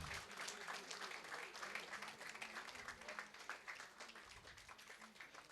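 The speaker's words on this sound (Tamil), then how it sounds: "கரகோஷம் எழுப்பி அன்புடன் அழைக்குமாறு கேட்டுக்கொள்கிறேன்" Audience at a Tamil Nadu primary school teachers' association event in Vellore applauds to welcome guests, steady dense clapping from a crowd heard at a distance and fairly faint, with voices mixed in.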